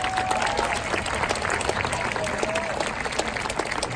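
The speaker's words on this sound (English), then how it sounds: "Let's give those students a round of applause." An audience at a middle school class promotion ceremony claps for students in a steady, dense burst that lasts throughout, filling a large room at moderate volume.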